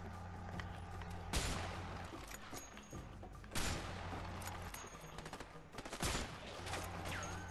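Gunshots in the A Way Out video game: three sharp, loud single shots spaced a couple of seconds apart, each ringing out over a steady low game ambience.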